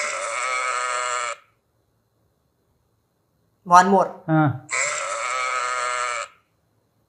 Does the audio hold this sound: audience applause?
no